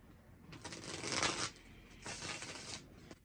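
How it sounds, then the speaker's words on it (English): Tarot cards are riffle-shuffled close up in two distinct bursts, each a dense papery flutter lasting under a second, separated by a short pause and followed by soft handling. "So let's shuffle these cards first and foremost."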